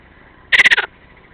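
A single frog gives a short, loud croaking call of about five rapid pulses, close by and alone against quiet background.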